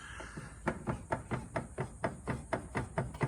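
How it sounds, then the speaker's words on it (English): Rapid, regular clicking or knocking from the steering rack of a Porsche 930 Turbo repeats about four times a second, mechanical and fairly close, over a low background rumble with no voices. "But what I'm hearing is more steering rack like. That big click"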